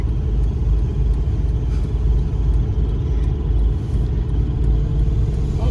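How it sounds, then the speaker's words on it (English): A Honda Civic, suspected of a faulty throttle position sensor, drives along at about 20 with a loud, continuous engine rumble heard from inside the car, uneven and slightly rough throughout. "we hit 20 and it starts sputtering"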